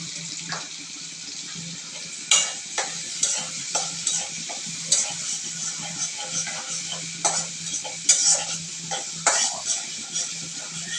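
Onion and shrimp stir-frying in a pan with a constant close sizzle, punctuated by irregular spatula scrapes and clacks against the metal, and faint voices in the background.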